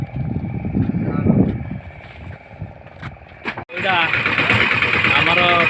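A tourist boat's engine at the Satapada dolphin point near Puri catches abruptly after a muffled crank and then runs in a loud, steady, close drone, with people talking over the boat noise beforehand.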